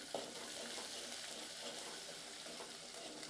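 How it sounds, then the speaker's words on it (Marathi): Ginger-garlic paste with cloves, pepper and a piece of cinnamon sautés in a pan, giving a faint, steady hiss and sizzle with soft stirring throughout. "लवंग मिरी आणि दालचिनीचा तुकडा घालून घेऊ आणि लगेच आलं लसणाचं वाटण घालून घेऊ हे व्यवस्थित परतून घ्यायचं"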